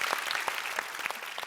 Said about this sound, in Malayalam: നമ്മുടെ കോറസ് പാടിയവർക്കും കൂടി ഒരു വലിയൊരു കൈയടി.